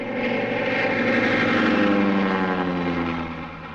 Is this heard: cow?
no